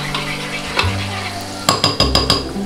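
Filipino-style fried chicken sizzles loudly in a hot pan, a steady crackling fry broken near the end by a few sharp clinks and scrapes of a utensil stirring, with no talking.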